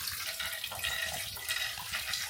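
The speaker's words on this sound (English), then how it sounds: "Well, you add warm water." Warm water runs in a steady hissing stream onto dry yeast while making magwinya dough, continuous and close with no pauses.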